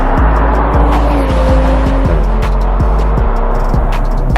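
A 2021 BMW 3 Series, 330i, launches hard from standstill, its engine roaring loud and close as revs climb and drop through quick gear changes, a steady droning pull with no talk.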